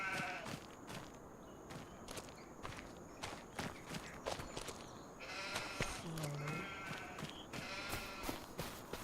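Flock of twenty sheep in Farming Simulator 25 bleating repeatedly over soft, steady footsteps on grass, with a few calls standing out loud and close.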